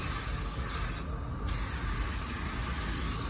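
Steady continuous hiss of a Porphis paint spray gun laying down an automotive coat, broad and loud, with a brief gap near the middle where the trigger releases before spraying resumes.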